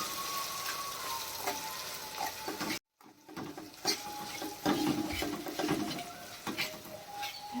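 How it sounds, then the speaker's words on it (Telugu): Egg curry with spice paste and curry leaves being stirred in a pan over a low flame, soft scraping and gentle sizzling in an uneven rhythm, close and continuous, broken by a brief pause. "మొత్తం కలుసుకోవాలి నీట్గా."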